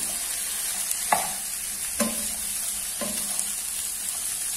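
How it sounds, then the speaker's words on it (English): Broccoli is stir-fried in a pan over a constant bright sizzle, with three evenly spaced scrapes or taps of the utensil about a second apart, close up and without voices. "We will stir our broccoli"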